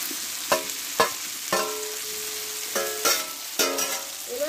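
Vegetables with spices and green chillies being stir-fried in a pan, a continuous sizzle punctuated by several sharp spatula knocks and scrapes against the pan, heard up close with no talking.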